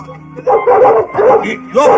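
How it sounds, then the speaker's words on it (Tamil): A newly acquired dog pulling on its lead lets out a few close, yelping barks and whimpers in quick bursts, with a person speaking among them. "புது நாய் இழுக்குது யாருக்கு கட்டுப்பட மாட்டேங்குது"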